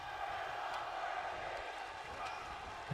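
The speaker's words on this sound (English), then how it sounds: "Crowd chanting, we're not worthy." Arena crowd in the WWE 2K23 wrestling video game chanting together, a steady, faint roar running throughout with no clear break.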